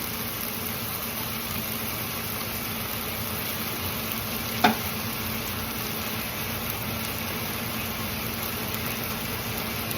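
Green beans hitting a hot pan with spices and vegetables during home pulav cooking, giving a steady, even sizzle throughout with one brief clack near the middle.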